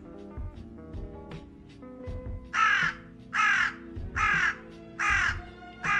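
Crows in The Long Dark caw loudly in four evenly spaced harsh calls over a low rumbling ambience, preceded by softer clicks and thuds, with no voices.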